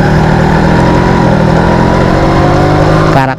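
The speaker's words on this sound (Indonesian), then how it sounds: "Jadi karakter mesinnya emang kayak gini ya, RZR agak kasar" A Yamaha RZR two-stroke sport motorcycle engine running loud and close with a rough, buzzing, uneven idle that holds steady throughout, then cuts off abruptly at the end.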